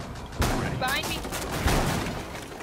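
Rapid gunfire from a Rainbow Six Siege match, with two sharp bursts standing out over a steady crackle of shots, mixed with voices and game sounds.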